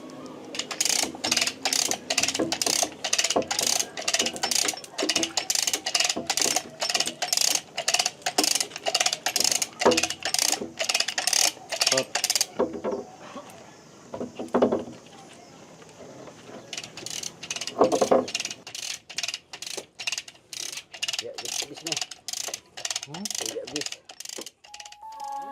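A block-and-pulley ratchet hauls a boat rudder up in a boatyard, giving a long train of sharp, evenly spaced metallic clicks that pause briefly midway and then resume, with low mechanical thumps and faint talk underneath.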